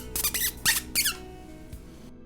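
A hunter makes a few sharp, high squeaks with his mouth to imitate prey and call a pine marten, a quick series of close calls over a quiet outdoor background.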